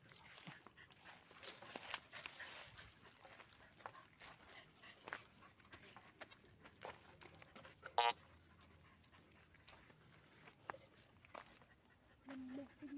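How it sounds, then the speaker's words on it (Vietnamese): A dog pants near a metal detector out on a gold-hunting trip in Vietnam, its quick breaths recurring in short bursts over a steady outdoor hiss, with a few sharp knocks and rustles nearby. "Chó thở."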